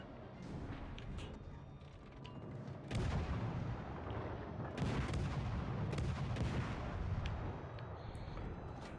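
Warship guns firing in the World of Warships video game, heavy booming salvos rolling out repeatedly at a fairly low level, with no talking over them.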